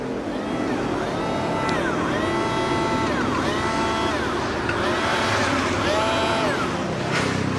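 A struggling sewing machine motor whines in repeated rising and falling wails over a continuous loud mechanical drone, strained and uneven throughout.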